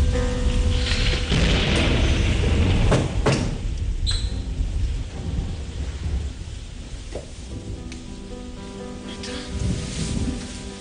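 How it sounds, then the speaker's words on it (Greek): Thunder rumbles and booms through a night storm with rain, loud broadband crashes early on, then rolling lower rumbles continuing steadily throughout. "Γιατί ξύπνησες? Από τις βροντές."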